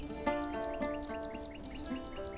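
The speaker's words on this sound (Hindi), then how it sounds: "हमें हकीकत का पता दे रहा है बुलबुल का गीत।" A bulbul sings a series of bright, repeated chirping notes in a steady rhythm, with a sustained tonal background underneath and no talking.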